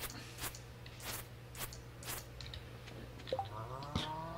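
A cow lows briefly near the end of a Stardew Valley farm scene, following a run of soft, regular footstep-like thuds over a quiet game backdrop.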